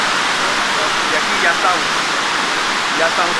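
Waterfall cascading down at the basalt prisms in Huasca de Ocampo, Mexico, a loud, steady, close hiss of falling water with a few faint birdlike chirps breaking through.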